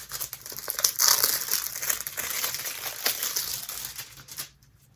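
Plastic packaging crinkles and tears continuously as a December 2019 beauty subscription box holding highlighters is opened, loud and close, stopping abruptly at the end.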